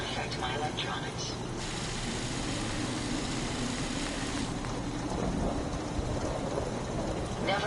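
Rain falls steadily with rumbling thunder in the Fallout 4 video game, a constant hiss with a low roll, under a voice that speaks over it.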